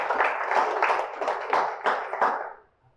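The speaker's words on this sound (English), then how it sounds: "Round of applause for that" An audience claps in a round of applause at a live-streamed event, a dense, moderately close patter of many hands that holds for about two seconds and then fades quickly.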